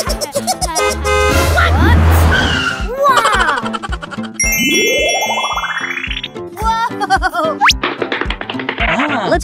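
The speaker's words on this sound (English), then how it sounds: "Let's play with the toy car together." Cartoon toy car zooming about, rendered as bright toots, honk-like bursts, a long rising whoosh and springy boings in quick succession, loud and busy, with playful vocal sounds mixed in.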